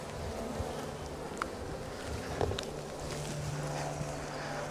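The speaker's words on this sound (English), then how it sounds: "I'm just smoking these bees in the super just to get them back out of the way." Honey bees in a Flow Hive super being smoked during a hive split: a faint, steady buzzing hum with scattered soft knocks and light wind noise, no talking.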